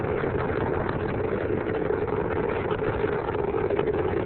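Space Shuttle Discovery's engines roar during ascent after liftoff on the STS-39 flight. The steady, unbroken rumble sounds muffled and band-limited, like a live broadcast feed, with no voices over it.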